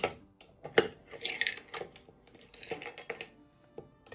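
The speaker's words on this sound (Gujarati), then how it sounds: "2 ટેબલસ્પૂન આપણે સિંગદાણા લેશું." Two tablespoons of peanuts being measured out, heard as close, light metallic clinks and rattles of a spoon against a container, irregular and sparse with quiet gaps between.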